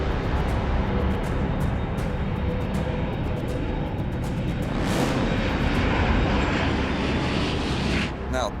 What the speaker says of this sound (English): And the plane takes off.